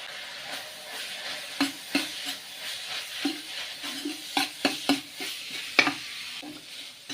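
Southern Thai curry paste stir-fried in oil in a wok with minced pork, repeated spatula scrapes and knocks over a steady low sizzle, close and uneven in rhythm, with no talking.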